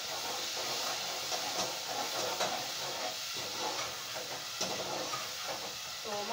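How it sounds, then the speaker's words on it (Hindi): Water is poured into a hot cooking pot while preparing cauliflower, giving a steady, fairly faint steam hiss with small bubbling and stirring sounds scattered through it. "पानी इसके अंदर डालूँ थोड़ा सा।"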